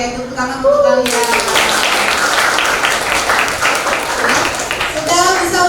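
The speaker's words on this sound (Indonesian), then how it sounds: "tepuk tangan untuk kalian" A classroom of pupils claps together in a dense, steady burst of applause lasting several seconds, with a teacher's voice heard just before and after the clapping.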